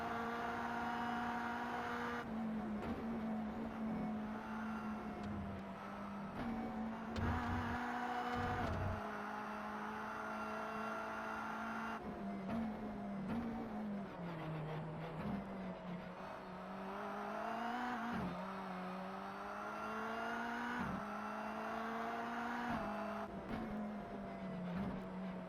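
Group A Mini Cooper race cars in the Race Pro video game produce a steady, continuous engine drone that rises and falls with repeated gear shifts and throttle changes, loud and unbroken throughout.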